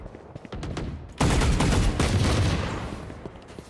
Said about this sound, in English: I'm getting shot through smoke!